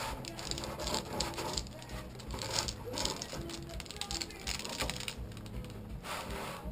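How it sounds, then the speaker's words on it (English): A knife cuts through the crust of a freshly baked Jewish strudel with a series of crisp, crackly crunches and light taps against a board, heard close and alone. "I'm gonna cut it open so you guys can see what it looks like on the inside"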